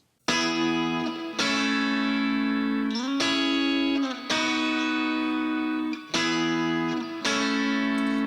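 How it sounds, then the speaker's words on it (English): Twangy electric guitar part played on a Stratocaster bridge pickup with reverb, loud sustained chords in repeated phrases with brief gaps between them, no talking. "Now we have the Strat bridge pickup part."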